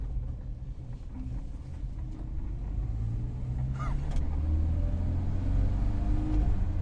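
A classic Volvo Amazon's engine accelerating, a fairly quiet low rumble with a slowly rising hum that grows a little louder over several seconds, heard from inside the cabin with no talking.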